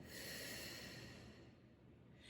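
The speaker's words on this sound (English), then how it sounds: "breathing out through pursed lips" A slow exhale blown out through pursed lips during a Pilates breathing exercise, a soft steady rush of breath that fades over about two seconds, close to the mic with no talking.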